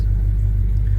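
A Chevy C10 truck engine idles with a steady, deep, close rumble, continuous and even throughout.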